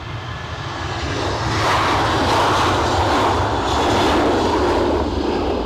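A fixed-wing airliner engine roars at Edinburgh Airport, a continuous broad rumble that swells and holds steady at moderate distance, with no voices over it.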